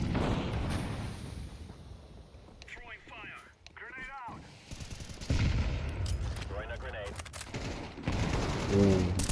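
In Counter-Strike 2, a grenade blast and bursts of gunfire sound through the match, with rumbling explosions and sharp shots mixed under several players talking excitedly.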